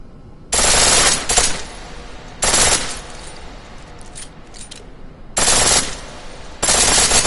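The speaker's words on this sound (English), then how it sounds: "The pistol in full auto will take down targets fast" Full-auto pistol fire in Deus Ex: Mankind Divided comes in four loud, close bursts, each lasting about half a second to a second, separated by quieter stretches of background game sound.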